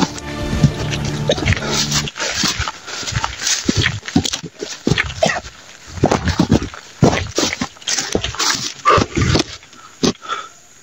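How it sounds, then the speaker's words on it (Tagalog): Repeated sharp dog barks burst out irregularly nearby, with scuffling noise between them and no clear speech. "Tumataho yung aso."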